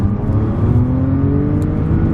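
Audi B8 S4 with an IE Stage 1 tune accelerating through the gears on the road, a loud steady engine drone with rising pitch as it pulls, heard from inside the car.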